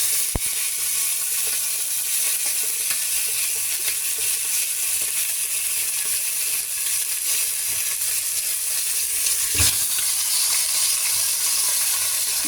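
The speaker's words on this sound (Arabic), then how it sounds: "نسيبهم بقى يتحمروا كويس قوي" Marinated chicken thighs fry in a pan with a loud, close, unbroken sizzle and hiss, joined now and then by a faint clink.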